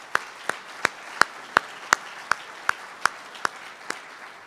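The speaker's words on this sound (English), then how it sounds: "How about a round of applause for them?" Sparse, slow hand claps from a small audience at an arena dedication ceremony, about a dozen sharp, evenly spaced claps ringing out with room echo and no talking.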